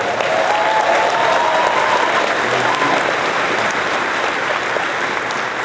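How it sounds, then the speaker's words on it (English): A convention audience at Phoenix Fan Fusion applauds in a large hall, a dense and even wash of many hands clapping that holds steady for the whole stretch without fading, with faint crowd murmur underneath. "He's appreciating that applause."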